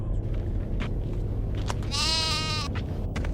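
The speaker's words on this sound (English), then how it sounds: "Brother Sheep, what's wrong?" A sheep lets out one clear, wavering bleat near the middle, standing over a low, steady background hum.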